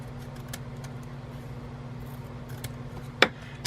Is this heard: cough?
no